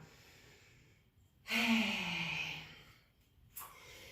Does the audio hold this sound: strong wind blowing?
no